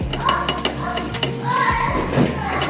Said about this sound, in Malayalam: ബട്ടറിലാണ് പൊരിക്കുന്നത്.